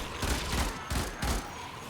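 Weapon fire in the shooter game Warframe comes in three quick, punchy bursts of shots about half a second apart, loud and close, with no talk over them.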